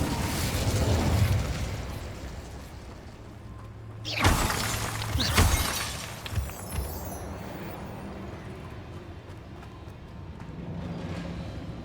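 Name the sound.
Incendio fire spell in video game Hogwarts Legacy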